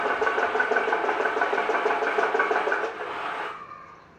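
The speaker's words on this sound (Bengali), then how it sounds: "ট্রলার," A trawler boat's diesel engine throbs with a steady, loud mechanical rumble for most of the clip, then drops suddenly to a quieter hum near the end.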